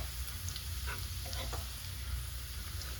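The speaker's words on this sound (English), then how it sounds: "it's sizzling away nicely" Onion sizzles in hot oil in a pan for a thick garlic chicken tikka chilli bhuna, a continuous close crackling hiss with a few sharp pops and a low steady hum beneath.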